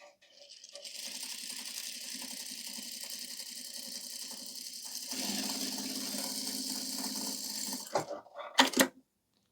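Juki DDL-7000A industrial sewing machine running a seam at stitch length 4, a soft, steady motor whir that grows a little louder partway through, then stops and is followed by a few sharp clicks and clatters.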